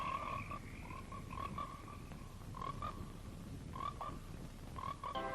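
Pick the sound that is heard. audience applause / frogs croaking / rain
frogs croaking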